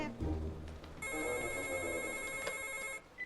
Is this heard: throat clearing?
no